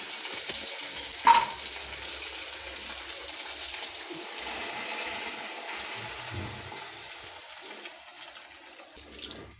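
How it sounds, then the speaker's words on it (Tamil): Mashed dal is poured into a hot pan, hissing and sizzling steadily with faint bubbling and stirring, no voices. "நம்ம கடைஞ்சி வச்சுருக்க பருப்பை இதில் ஊற்றிடலாம்."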